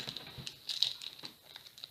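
Hands tear and crinkle the packaging of an Upper Deck MVP trading card box without scissors, making soft, irregular patters, rustles and small rips, close and faint, with no talking.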